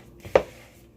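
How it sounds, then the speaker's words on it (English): A single soft, dull scrape-and-thud of a spatula working milk into dry Scottish scone dough in a bowl, brief and close, with near silence around it. "And I'm just going to mix this in with my spatula here."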